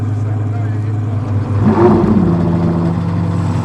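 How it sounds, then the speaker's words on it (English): A flat-nose turbo car's engine cranks and churns unevenly at a car show, a low struggling drone that rises briefly in the middle before settling, close and fairly loud with crowd noise around it. "The flat nose turbo is struggling to start"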